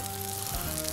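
A jalapeno cheddar sausage sizzles on an Ofyr outdoor fire-bowl grill, a steady dense crackling hiss at close range with no talk.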